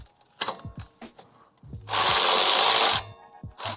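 An electric ratchet loosens a 22 mm bolt on the control arm of a 2004-2008 Ford F-150, buzzing loudly for about a second after scattered metallic clicks and tool handling in a workshop.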